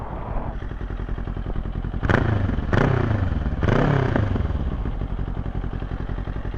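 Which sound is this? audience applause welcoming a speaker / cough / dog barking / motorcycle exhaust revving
motorcycle exhaust revving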